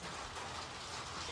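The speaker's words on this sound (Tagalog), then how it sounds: "Grabe ulan dito, guys." Heavy rain pours steadily outside a home in the Philippines just after a downpour begins under dark clouds, a dense broadband hiss that holds even and unbroken throughout.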